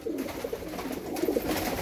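Slate-grey Kamgar pigeons coo close by, soft low rolling calls repeating over steady background noise.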